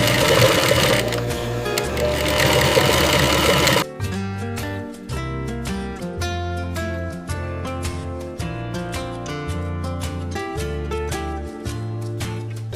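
Sewing machine stitching crocodile leather in a luxury leather factory, a dense rapid mechanical run for the first four seconds, then a series of quicker bursts of stitching with short pauses between them, loud and close, with no voices.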